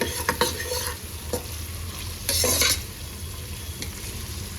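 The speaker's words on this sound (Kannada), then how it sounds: "ಈ ಆನಿಯನ್ಸ್ ಎಲ್ಲ ಸ್ವಲ್ಪ ಗೋಲ್ಡನ್ ಬ್ರೌನ್ ಆಗಬೇಕು, ಚೆನ್ನಾಗಿ ಫ್ರೈ ಆಗಲಿ" Sliced onions frying toward golden brown in a pan, a steady sizzle with a spatula stirring and scraping through them in short bursts, close up and without talk.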